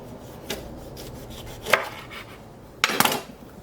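A knife slices through a pepper on a cutting board, giving three crisp chopping knocks, one soft and two sharper, near and clear against quiet room noise, with no talking.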